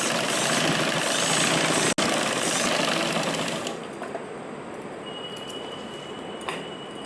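A sewing machine runs steadily, stitching a blouse belt with a dense, even whir for several seconds before stopping, leaving only faint small clicks and handling sounds.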